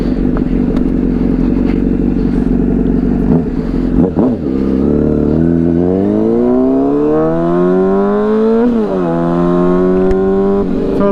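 A Honda CBR600RR 600cc sport motorcycle engine revs loudly and steadily while riding, its pitch climbing smoothly through the gears, close and unbroken.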